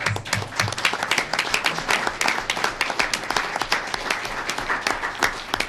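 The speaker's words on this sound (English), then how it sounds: "I think you're due a little bit of applause" Applause from the audience at a town selectmen meeting, honoring a championship-winning scholastic concert group: loud, close, crisp clapping of many hands, steady and sustained throughout.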